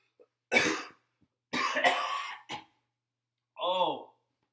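A few harsh, hacking coughs in short bursts, close up, followed by a breathy groan-like vocal sound.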